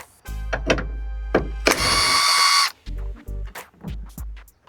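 Power tool driving out bolts from a Toyota Tacoma truck bed, a few short bursts of whirring separated by thunks, then one longer sustained run followed by several brief pulses, heard close.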